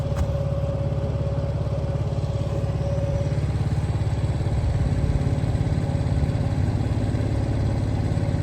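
A 7 hp small gasoline engine, bought online and being test run for the first time, runs steadily and loudly nearby with an even, throbbing idle that never stops.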